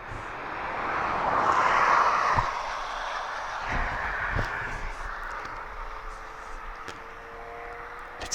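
An aircraft engine drones steadily at East Midlands Airport, swelling early then holding as a broad, distant roar with a few faint clicks, no voices heard.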